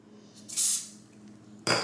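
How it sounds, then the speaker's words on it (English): Two short hissing bursts of a cooking spray can onto hands, close by, with a brief pause between them in an otherwise quiet room. "I'm gonna spray it a little."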